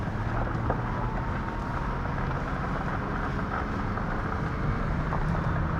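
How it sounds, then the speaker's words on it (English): A vehicle climbs the steep Ak-Baital Pass at high altitude in first gear, its engine droning steadily and close with a constant low rumble mixed with wind noise. "in first gear we're going up quickly, no problem at all. Up the Ak-Baital Pass."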